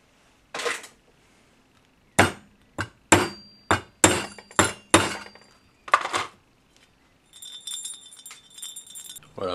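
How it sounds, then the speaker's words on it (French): A hammer driving a punch against the check valve of an oxygen bottle, about nine sharp metallic strikes in an uneven sequence, loud and close, followed by lighter metal rattling. "On va mettre une targette là, un coup de marteau,"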